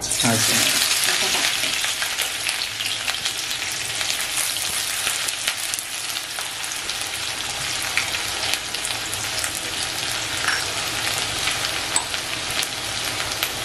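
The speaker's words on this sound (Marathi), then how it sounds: "कांदा आपण फ्राय करायला टाकलेला आहे।" Finely chopped onion fries in hot oil in a pan for a Karli fish curry, giving a steady, dense sizzle that stays loud and unbroken throughout with no pauses.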